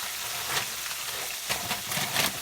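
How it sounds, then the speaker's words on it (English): Garlic sizzles in a frying pan with a steady hiss and crackle, with small louder pops and spatters scattered throughout. "So I'm gonna just let this sizzle for a minute."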